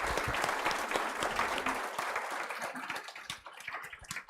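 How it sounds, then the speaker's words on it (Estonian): Big round of applause from a conference audience in a hall for two speakers, loud and dense at first, then thinning into scattered individual claps as it dies away. "Aga suur aplaus veel kord mõlemale"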